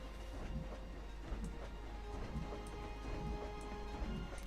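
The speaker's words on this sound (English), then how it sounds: "the train's out of control kind of thing as it goes into the tunnel" A train in the Planet Coaster video game runs into a tunnel, giving a steady, loud rumbling roll with faint rhythmic clatter throughout, no voices.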